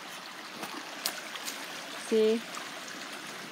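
A small river flows at a roadside picnic pull-off with hiking trails, a soft steady trickle and gurgle of water in the background, with someone briefly speaking and a short tonal beep.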